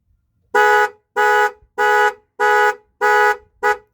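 A Ford truck horn honks six times in a steady, evenly spaced rhythm, loud and close, the last blast cut short, set off by a keyless remote panic button.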